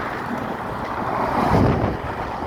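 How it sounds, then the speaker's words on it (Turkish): Wind blows hard across the Golden Gate Bridge in San Francisco, a steady loud roar with gusty buffeting against the microphone and no voices. "Aynı İstanbul'un boğazı gibi efil efil esiyor."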